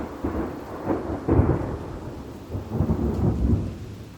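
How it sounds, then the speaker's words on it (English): A dusk thunderstorm in Austin rolls with deep rumbling thunder over steady heavy rain, the rumbles swelling and fading in a short burst with no voices. "A wave of storms rolled over right around dusk, bringing high wind, heavy rain, and even hail."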